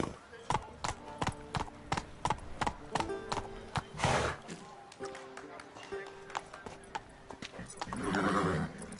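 Roach the horse galloping in The Witcher 3, a quick run of sharp hoof clip-clops in steady rhythm, with a snort or whinny midway and spoken dialogue between the hoofbeats.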